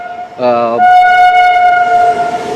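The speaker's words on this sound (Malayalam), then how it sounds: "ട്രെയിൻ പോകുന്നു ഗ്യാസ് ട്രെയിൻ പോകുന്നുണ്ട്" A loud train horn blares close by, one short blast and then a longer sustained one, over the rumble of a passing gas tanker train.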